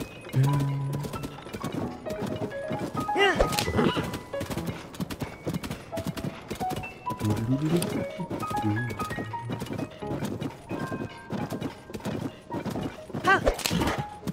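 Horse hooves clip-clop through The Legend of Zelda: Tears of the Kingdom, steady rhythmic steps mixed with game music and sound effects, with someone talking over much of it.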